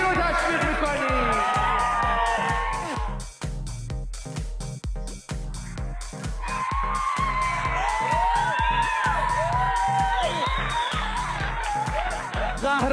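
A studio audience at an international champion competition cheers, whoops and yells loudly for a contestant over a steady, rhythmic pounding beat for the whole stretch.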